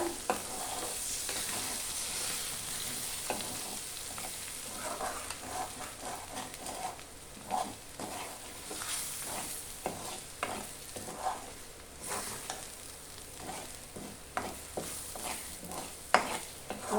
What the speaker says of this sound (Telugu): ఇది బాగా కలుపుకుందాం అడుగంటకుండా